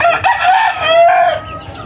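Chickens on a gamefowl farm, with a rooster crowing loudly and nearby across most of the stretch while hens cluck underneath in a busy outdoor range area.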